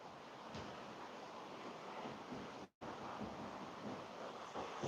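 Rushing river water under a bridge, a steady broadband roar that stays loud throughout, with a brief dropout near the middle before the wash resumes.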